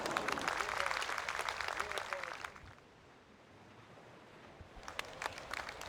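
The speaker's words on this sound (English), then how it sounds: "Just a light smattering of applause there." Light smattering of applause from a golf gallery around the green at the AT&T Pebble Beach Pro-Am, a soft patter of claps for a couple of seconds that dies away, then a few scattered claps return, distant and outdoors.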